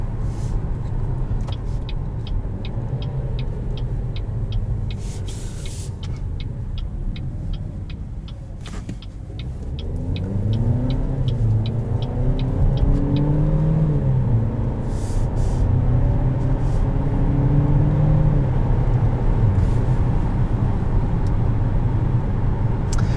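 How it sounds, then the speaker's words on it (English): A 2021 Buick Encore Preferred with a very small turbocharged engine accelerates, its steady rumble rising in pitch through a gear change as the engine spools up, heard close from inside the cabin with no voices. "I was trying to get it to accelerate without downshifting a ton"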